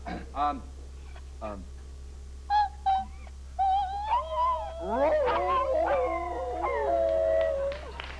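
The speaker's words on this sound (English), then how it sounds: "You're scaring the dog" A dog howls in long, wavering, rising and falling cries that grow denser toward the end, close and clear, with a voice and brief yips near the start.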